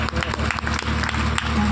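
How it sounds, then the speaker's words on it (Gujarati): Audience applause for donors at a religious comedy discourse, a dense patter of clapping that keeps going, fairly loud and mixed with faint crowd voices. "એકવાર દાતાઓને તાળીઓથી વધાવો"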